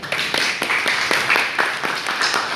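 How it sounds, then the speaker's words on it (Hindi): A crowd claps steadily and enthusiastically, a dense burst of applause holding at a constant level throughout without any talking. "अपने लिए एक बार जोरदार ताली हो जाएगा"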